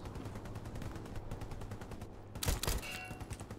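Rapid machine gun fire in Hell Let Loose, a steady stream of clipped shots at moderate distance, followed by a louder burst of nearby impacts near the end.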